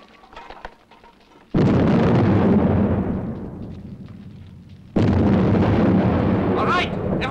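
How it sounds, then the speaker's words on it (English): Two sudden, loud dynamite blasts in a mine setting, each a sharp broadband boom followed by a long rumbling decay, the second arriving about three seconds after the first, with faint background talk before them. "He's been hiding sticks of dynamite. Ready for an explosion!"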